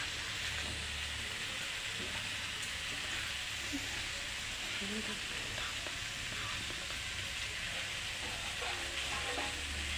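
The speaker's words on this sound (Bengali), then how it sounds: "এই সবজিগুলো দেখো একটু ভাজা ভাজা হয়ে গেছে লাল লাল" Red amaranth stems and mixed vegetables fry in a pan over a high gas flame, giving a continuous, even sizzle that stays close and steady from start to finish with no talk.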